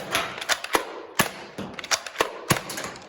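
Nerf foam darts fired at stacked cups in an elementary school setting, a string of sharp, close clicks and pops arriving in irregular bursts, about eight distinct snaps over a few seconds.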